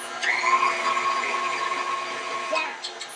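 Steady whir of an electric mixer beating cake batter at home, a sustained even drone with a faint pitched whine on top and brief clicks near the end.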